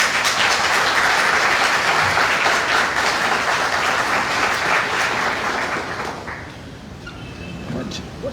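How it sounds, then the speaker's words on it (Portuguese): Sustained audience applause welcoming a guest speaker to a lecture on quantum physics, spirituality and health, dense clapping filling the room before gradually thinning out near the end. "Então vamos receber com uma salva de palmas nosso amigo Moacir."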